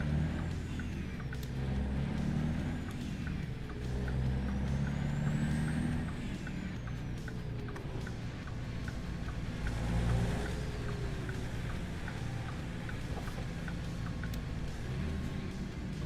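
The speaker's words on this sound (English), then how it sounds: "Man, this truck be loud, chat." Loud, steady diesel truck engine drone in American Truck Simulator, with a sharp air brake hiss partway through and faint rhythmic clicks over the engine rumble, no talking.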